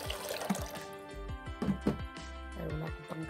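Water splashes and trickles into a metal pot in uneven bursts, with clinks and gurgles between pours, close and moderately loud.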